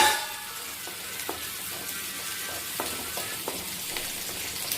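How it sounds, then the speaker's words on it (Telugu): Onions frying in a pan on the stove, a steady faint sizzle with occasional soft crackles and pops, heard alone without speech. "ఆనియన్స్ వేసుకొని బాగా వేయించుకోవాలన్నమాట. బాగా వేగాలి ఆనియన్స్ అనేది."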